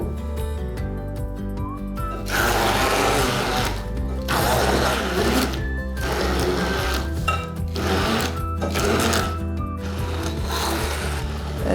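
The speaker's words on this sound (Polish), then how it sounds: "Blendujemy jeszcze chwilkę, aby uzyskać gładką konsystencję naszego kremu." A kitchen blender whirs loudly and steadily while blending chocolate cream made with cocoa, ground nuts and honey, switched on and off in several long bursts with short gaps between them.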